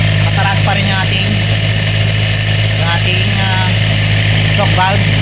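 A car engine runs at a raised idle of about 1,400 RPM after an automatic cold start, with a steady, loud hum and a person talking over it throughout.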